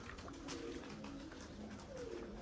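Low, soft cooing of pigeons murmurs continuously beneath a steady outdoor background, with no clear talking.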